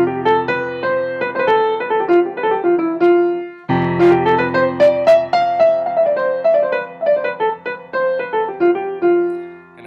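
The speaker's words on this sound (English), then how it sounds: "And Lydian has a sort of fairy-like or fantasy sound, and it sounds like this." A melody in the Lydian mode, bright and fairy-like with a raised fourth, played on a sustained pitched instrument. Two flowing phrases of stepwise notes climb and settle, clear and upfront with no voices.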